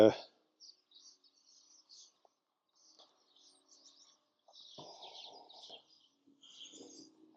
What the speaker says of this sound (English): not sure if you're picking up all the bird song here in the background here today